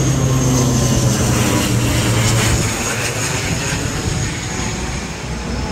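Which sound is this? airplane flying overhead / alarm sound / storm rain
airplane flying overhead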